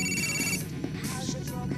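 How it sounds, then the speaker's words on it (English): A mobile phone rings in the video game GTA IV, a steady electronic ringtone pulsing over background game sound, with no voices over it. "The phone's ringing."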